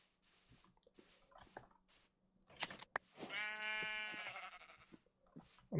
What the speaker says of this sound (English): And we'll see what we can get from these sheep.